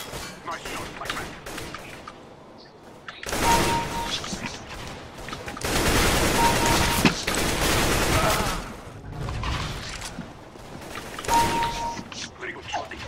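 Gunfire from a first-person shooter game on a DM1 Pro gaming mouse setup crackles in dense bursts, loud sustained volleys mid-clip with quieter clicks and pops between them, talk mixed in.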